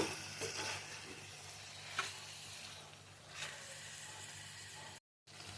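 Chili powder sizzles softly in hot oil for a chicken gongura curry, a quiet, steady frying hiss broken by a few scraping stirs, with a short gap of silence near the end.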